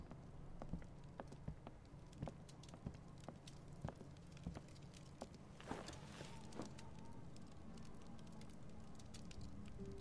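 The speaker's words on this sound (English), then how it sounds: "An actual fireplace." Fireplace fire crackling in the video game The Walking Dead: a quiet, steady bed of irregular pops and snaps continuing throughout, with no talk over it.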